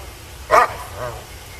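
A police K-9 dog gives one sharp, loud bark near the start, then a fainter second bark follows shortly after, both heard close by during a standoff with someone inside a car.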